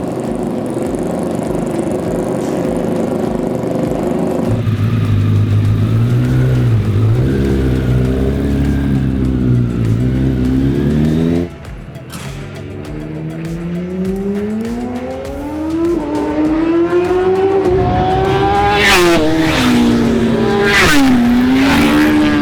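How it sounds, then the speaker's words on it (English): Racing motorbikes from the RiMS Racing game roar continuously on track, engines revving hard and shifting pitch through gear changes, with a brief dip before climbing again to loud, rising wails, close and unaccompanied by talk. "capture the essence, roughness, and power of the sound of these marvelous motorbikes when they're on track"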